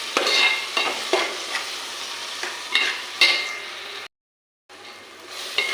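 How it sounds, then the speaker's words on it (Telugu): Onion frying in a pan, a close sizzle punctuated by spatula scrapes and taps, with a short gap of silence near the end. "ఇంకా కొంచెంసేపు ఉల్లిపాయ బాగా వేగనిద్దామండి"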